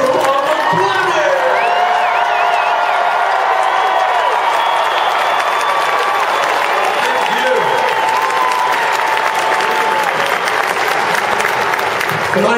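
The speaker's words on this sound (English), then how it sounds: "that's about a bit of applause for the best crew on the planet!" A large concert audience at a show applauds and cheers loudly and continuously, with whoops rising over dense clapping for the whole stretch.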